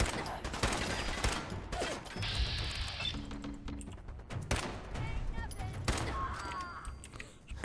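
Video game gunfire from Fallout 4, a weak-sounding gun firing several scattered shots amid game sounds and mechanical clicks, with bursts and crashes spread through the scene.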